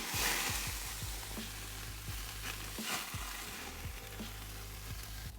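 Shrimp and peppers sizzle on a hot grill, giving a steady, dense crackle with soft pops and faint knocks underneath, close and even, with no talking.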